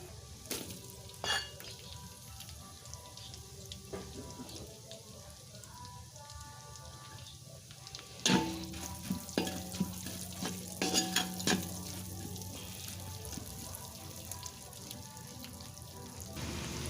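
Onions sautéing in a pan for dinuguan, a steady crackling sizzle with sharp clinks and scrapes of stirring, close and fairly quiet, growing busier partway through.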